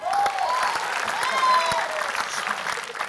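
Studio audience applause on the Indonesian game show Family 100 after a birthday song, steady continuous clapping with voices calling out over it.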